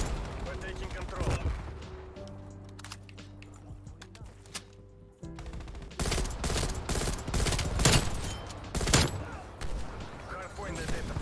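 Gunfire from an M16 in Call of Duty Cold War, bursts of shots crackling over background music, sparse at first and then a dense loud volley toward the end.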